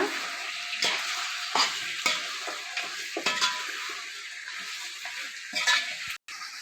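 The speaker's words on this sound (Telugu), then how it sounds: "ఇప్పుడు చికెన్ యాడ్ చేస్తున్నాను నేనైతే ఇది వచ్చేసి టూ కేజీ చికెన్ అండి ఒక్కసారి అయితే కలుపుదామండి" Two kilograms of chicken tossed into a sizzling masala, a steady fry hiss broken by repeated scraping stirs of a spoon against the pot, close and moderately loud, no talking.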